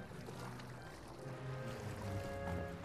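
Water rushes and churns as a character swims up a waterfall in the Dragon Quest Builders 2 video game, a dense, continuous splashing wash at moderate level with no talk.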